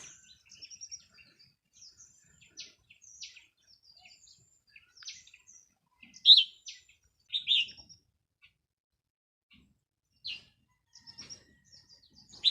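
Birdsong from a red-whiskered bulbul, bright chirpy phrases repeating at moderate distance, with a couple of louder calls in the middle against a quiet background.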